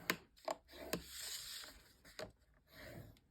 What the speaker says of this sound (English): Let me get out my small scoreboard here and my score tool. And I'm just going to score at 1/4 inch.